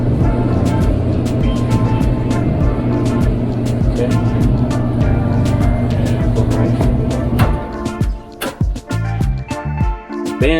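A repaired clothes dryer drum spins with a steady, loud rumbling drone and scattered ticks, then the drone gives way to knocks and clattering handling noises near the end.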